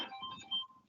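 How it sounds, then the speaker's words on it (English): A mobile phone rings faintly in a quiet room, a brief melodic ringtone heard for under a second. "apologies, that's my phone going."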